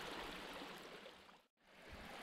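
A river running through a former mining area, heard as a steady, broadband rush of flowing water, fairly faint and continuous apart from a brief dip in the middle.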